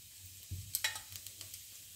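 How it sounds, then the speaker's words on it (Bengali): Cumin seeds sizzle in hot oil as tempering for a vegetarian broccoli curry, a faint, close crackle with a few quick spoon taps and scrapes against the pan. "আর জিরেটুকু ফোড়ন দিচ্ছি।"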